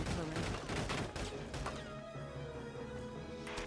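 Continuous machine gun fire in Valkyria Chronicles 4 rattles on without a break under a busy battle mix, loud and close, with metallic clatter and crashes layered in.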